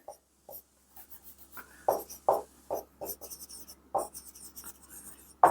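Chalk or marker writing on a board during a chemistry lesson, a series of short, distinct scratchy strokes with brief pauses between them, close and clear against a quiet room.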